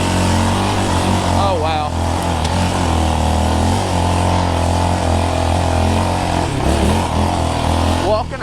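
Yamaha Raptor 700R SE ATV, a 2022 model, running loud and close throughout with a steady low engine drone and rising revs, while a rider speaks briefly over it.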